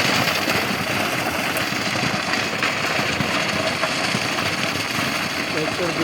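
A tractor pulling a rotavator through a dusty field during ploughing season in Bengaluru, its engine running in a steady, rough drone with heavy mechanical noise throughout.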